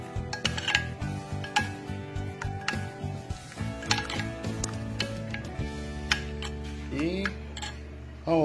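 A spoon clinks and scrapes repeatedly against a bowl while chile guerito salsa is stirred, a steady rhythm of light metallic ticks, close and clear, with a brief voice near the end.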